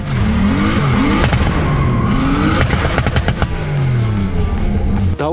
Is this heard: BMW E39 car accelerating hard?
yes